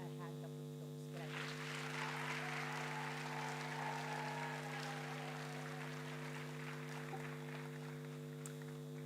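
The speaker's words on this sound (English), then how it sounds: "Let's give them a hand of applause." An audience at a university graduation ceremony bursts into steady applause after a second of quiet, the clapping filling the hall under a constant electrical mains hum.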